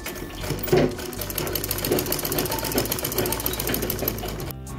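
Close and loud, a sewing machine stitches a folded blouse hem in one continuous rapid run. The needle's fast rhythmic chatter keeps up for several seconds and then stops abruptly at the end.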